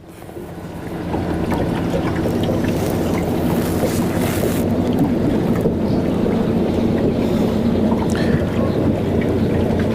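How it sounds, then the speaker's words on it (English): A steady low engine drone from motorboats out on a lake, with wind buffeting the microphone and a constant wash of ambient noise. "Boats are starting to come out."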